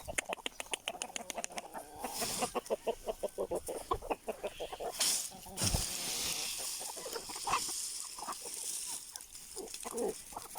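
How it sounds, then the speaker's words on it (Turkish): Chickens and roosters cluck in a busy flock, with rapid repeated clucks early on and scattered squawks and calls continuing throughout, fairly close. "Bir bakalım tavuklarımız neler yapıyor horozlarımızla beraber."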